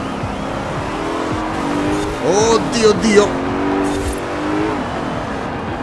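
Racing car in Forza Horizon 4 roars at high revs, with squealing tires swelling midway through a loud, continuous engine drone while a man exclaims over it.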